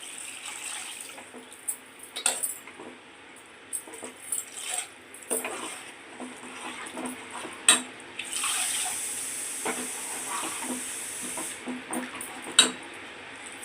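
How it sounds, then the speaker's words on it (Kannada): Half a pot of water splashes and gurgles into a metal pan of roasted peanuts amid clinks and scraping, the pouring rising to a steady rush midway, close and unaccompanied by speech. "ಒಂದು ಚಂಬಲ್ಲಿ ಅರ್ಧ ಚಂಬು ನೀರು ಹಾಕಿದ್ದೀನಿ"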